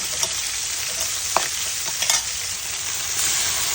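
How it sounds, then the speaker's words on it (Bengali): Small onions and a pinch of nigella seeds fry in a hot pan for a home-cooked bottle gourd dish, giving a steady close sizzle with a few faint clinks of stirring. "ছোট তিনটা পেঁয়াজ দিয়ে দিচ্ছি ছোটো আর দিচ্ছি একটু সামান্য কালো জিরা"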